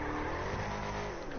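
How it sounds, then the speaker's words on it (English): A monster truck in GTA Online idles and revs with a deep, rough, continuous engine roar, loud and close, with no talk over it. "This is what the monster truck should sound like."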